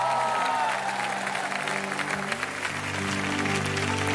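Loud studio audience applause for a guest on a comedy night show, a dense steady wash of clapping with crowd noise lasting throughout, with sustained musical tones underneath.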